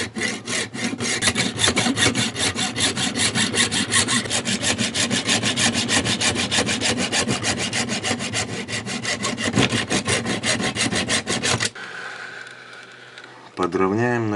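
A hand saw cuts through wood in fast, even back-and-forth strokes for about twelve seconds, loud and close, then pauses briefly before resuming.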